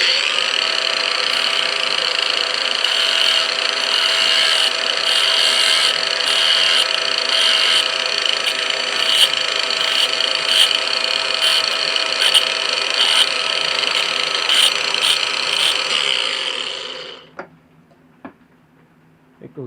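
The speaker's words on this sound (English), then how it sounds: "Yeah, just grind that off." A grinder grinds off a protruding MIG welder contact tip, a loud continuous high whine with a steady grinding rasp for about seventeen seconds, then it cuts out and a few faint clicks follow in near silence.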